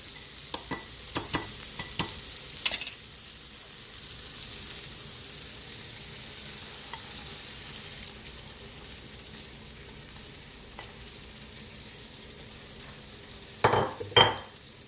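Eggs fry with bitter melon in a pan for a Chinese breakfast, giving a steady low sizzle with a few sharp utensil clicks and scrapes near the start and again at the end, with no talking.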